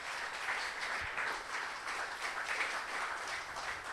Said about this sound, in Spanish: Denle un fuerte aplauso al Rey por eso en esta mañana.